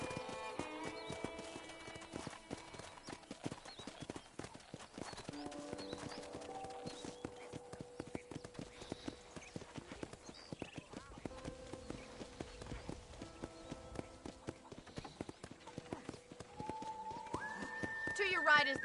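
Steady clip-clop of horse hooves trotting throughout, from the video game Red Dead Redemption, with game music and occasional talk layered over it, moderately loud.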